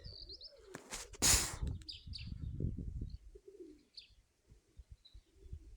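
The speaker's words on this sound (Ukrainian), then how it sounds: "До речі, голуби летять." Pigeons coo softly in low, throaty murmurs, joined by a burst of flapping wings and a few faint chirps, fairly quiet and close.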